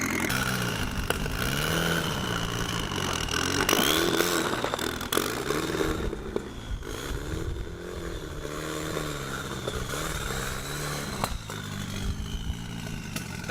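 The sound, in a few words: car doing a burnout, engine revving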